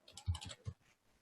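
Short burst of typing on a computer keyboard, a handful of quick close key clicks in an uneven rhythm, quiet and alone.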